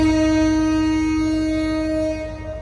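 A Bijoy Express train standing at Pyarpur railway station, sounding a loud, sustained horn with a steady tone over a low rumble, fading slightly toward the end.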